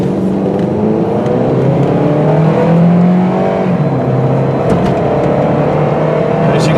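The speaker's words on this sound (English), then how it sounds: "As you can see, I really stepped on the gas, not all the way, but pretty good." A blue 2005 Pontiac Sunfire two-door accelerates hard toward 55 mph, its engine loud and close. The drone climbs steadily in pitch through the gears, with steady road and wind noise underneath and no talking.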